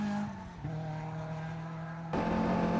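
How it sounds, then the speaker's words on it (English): A Mini Cooper S race car engine drones hard at high revs, loud and close, its pitch easing slightly before a quick gearshift, then holding at a steady, strained whine that grows louder toward the end. "This car certainly sounds strong."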